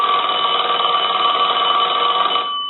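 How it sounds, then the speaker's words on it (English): Western Electric 2514 desk telephone bell ringing loudly and close, one continuous metallic ring that holds steady for over two seconds before cutting off. "So now what we can do is we can ring the telephone."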